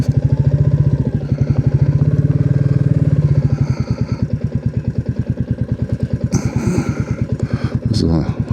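Close motorcycle engine idling with a steady low, thumping, pulsing beat for the whole stretch, rising briefly near the start and ending with a small rev, with faint background sounds.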